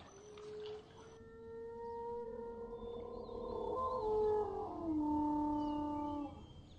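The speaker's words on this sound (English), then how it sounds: "So that was a really long, drawn-out whale noise" Long, drawn-out whale call from the video game Myst II: Riven, heard near a pool where a big sea creature lurks; several sliding tonal moans rise and fall together over about six seconds, loud and alone with no talk.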